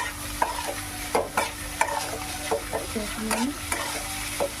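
Onion sizzles lightly in a pan for a home-style chicken dish, a steady frying hiss broken by repeated scraping stirs of a spatula, close up, with a brief voice at the start.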